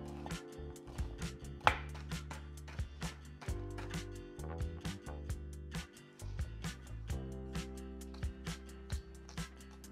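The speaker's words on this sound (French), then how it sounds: "on va d'abord hacher finement l'oignon rouge," Quick, steady knife chopping of red onion, garlic, celery and ginger on a cutting board, with evenly spaced taps over soft background music.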